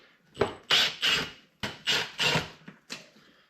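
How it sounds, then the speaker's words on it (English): A T20 bit backs screws out of a 2024 Polaris RZR XP panel during a wiper and door bag install, giving a series of short, close, gritty rasping turns in quick bursts with brief pauses between. "We're just going to remove the screws to hold it in place."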